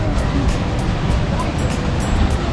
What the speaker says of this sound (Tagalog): lakas ng alon, Dre. Solid. Solid ang alon.